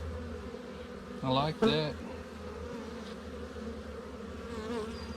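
A honey bee swarm being installed into a hive sends up a faint, steady drone of buzzing from many bees in the background, while a person speaks briefly in the middle.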